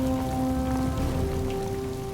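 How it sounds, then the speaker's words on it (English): Steady rain falls on a mountain in the Southern Alps during a night storm, a dense, continuous hiss of drops hitting the ground close by, even and unbroken, with a faint low tone running underneath and no voices. "As night falls again, rain shrouds the mountain."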